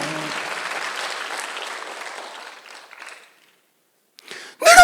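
A church congregation applauds during a Sunday worship service, a broad wash of clapping that fades out after about three seconds, followed by a short silence and then a sudden loud burst at the end.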